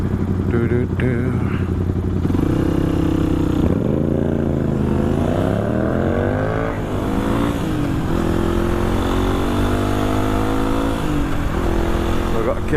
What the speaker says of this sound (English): Little KTM 125 Duke.